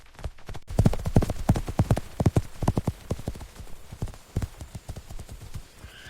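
A horse walks on a hard surface, its hooves clip-clopping in a quick, close, fairly even rhythm that carries on throughout, with some faint background texture.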